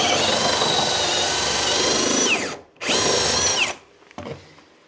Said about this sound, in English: Okay, well that's drilling all of a sudden.